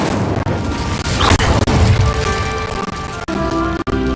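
Incendio fire spell being cast in Hogwarts Legacy: a loud, dense burst of crackling, roaring flame with crashing impacts, sustained throughout and punctuated by a few sharp cracks.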